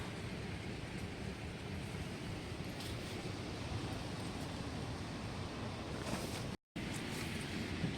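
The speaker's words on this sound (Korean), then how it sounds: "근데 이렇게 바람 부는 것도 뭐 나쁘진 않은 것 같아요" Strong wind sweeps across a campsite on Jeju Island, buffeting a tent in a steady, dense roar with low rumbling gusts and no speech, broken only by a brief silent gap near the end.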